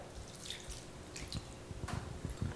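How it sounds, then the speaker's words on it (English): Red wine poured over a London broil cut of meat, giving soft wet dripping and splashing sounds, close and fairly quiet with no talk. "Pour red wine over it"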